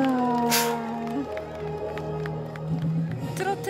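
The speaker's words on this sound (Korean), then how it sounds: "박수 보내주시기 바랍니다." An audience claps and cheers in a crowd at an outdoor fan event in Hadong, a dense wash of applause, with a loud voice rising over it for a moment.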